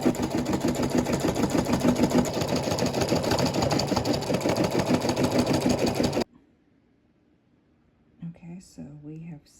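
A machine embroidery machine stitches a strawberry patch onto plastic stabilizer, a loud, steady rapid needle rattle that runs for about six seconds and then stops abruptly, followed by near silence and brief soft speech.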